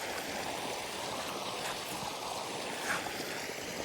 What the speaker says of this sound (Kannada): ಈ ನೀರೆಲ್ಲ ಹಿಂಗೆ ಹೋಗುತ್ತೆ